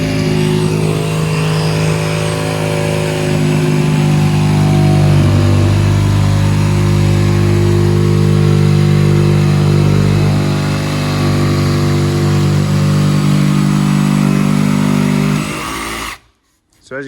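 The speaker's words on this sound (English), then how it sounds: "we use a nice wavy blade, and it cuts the Celotex nicely without any dust" Jigsaw fitted with a wavy blade cutting Celotex insulation board, a loud, steady motor whine with a low rasping buzz that runs unbroken for about sixteen seconds, then cuts off abruptly.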